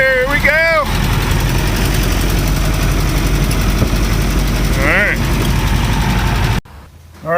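A 1930 Ford Model A engine drones loud and steady from inside the car while cruising in highway gear, with a few faint chirps over the hum and a sudden drop near the end.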